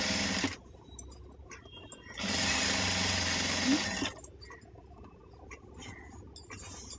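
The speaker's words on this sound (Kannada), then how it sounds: "ತುದಿಗೆ ನಾವೇನು ಉಲ್ಟಾ ತಿರುಗಿಸಿರ್ತೀವಲ್ಲ ಅದರ ಮೇಲೆ ಒಂದು ಸ್ಟಿಚ್ ಹಾಕ್ಕೊಂಬಿಡಿ" A household sewing machine stitches the edge of a saree in short whirring bursts, one burst near the start and a longer steady run in the middle, with quiet handling between them.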